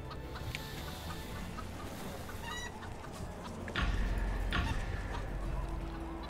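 Chicken clucking from the video game Neverwinter sounds in short bursts over a busy game ambience, with a louder low rumble joining midway.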